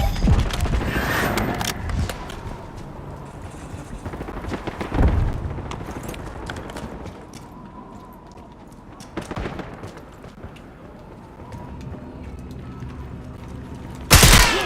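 Gunfire crackles during a firefight with an enemy patrol, with bursts of shots and loud sharp reports scattered across the clip, some clustered early and others spaced apart, and a heavy blast at the very end.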